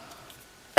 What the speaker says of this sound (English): I'm really trying not to cough in everybody's ear.